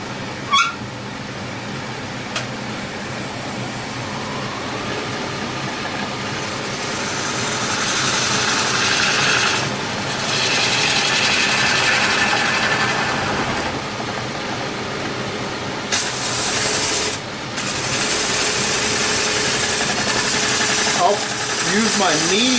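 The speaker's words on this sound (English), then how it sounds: "put my tenon here, and start shaping the vase." A wood lathe spins a vase blank held in a chuck jaw tenon. The steady motor hum carries through, with brief tool cuts and scraping bursts against the turning wood.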